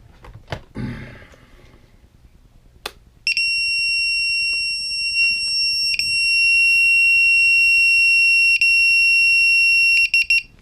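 A few soft knocks and rustles, then a drone's buzzer sounds a loud, steady high-pitched electronic beep that holds continuously, briefly interrupted, close to the listener.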